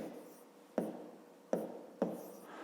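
A pen on paper writes out a fifth-grade maths exercise by hand, a quiet scratching broken by three sharp taps spaced under a second apart, close and faint.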